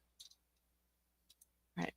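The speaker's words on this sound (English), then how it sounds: "And then right click and group." A mouse right-click while grouping shapes on a computer, a few faint small clicks followed by a louder brief clatter near the end, quiet between.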